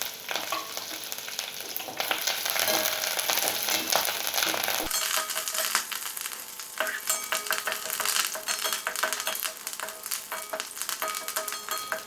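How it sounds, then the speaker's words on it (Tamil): Small shallots, dried chillies and curry leaves sizzle and crackle in a hot oiled pan while being stirred, a steady close frying hiss that shifts in texture midway, with no talking. "அப்புறம் சின்ன வெங்காயம் நல்லா போட்டு நல்லா வதக்கிக்கோங்க."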